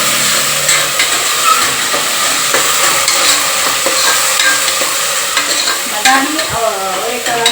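Tomato bath cooking in a pan, with loud continuous frying hiss and sizzle and frequent scraping and clinking of a spoon stirring, steady throughout and close by, without speech.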